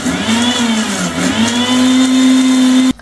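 A kitchen mixer grinder whirs steadily and loudly while blending a milk-and-lemon mayonnaise, its motor pitch wavering then settling before cutting off abruptly at the end.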